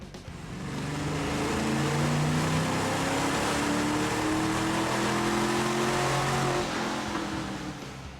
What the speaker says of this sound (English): Now we can run this car in the dyno and see how much power we picked up with these super easy and affordable bolt-ons.